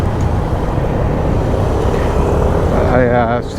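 Busy city road traffic heard from a small motorbike, with a steady close roar of engines and road noise throughout and a voice talking over it near the end.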